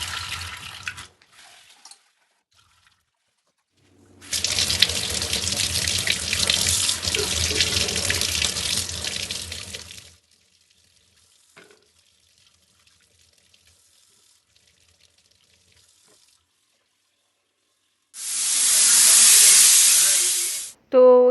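A kitchen tap runs while lentils for dal are washed, giving a strong steady gush of water for several seconds. A few quieter handling sounds follow, then another short loud burst of running water, and no speech is heard.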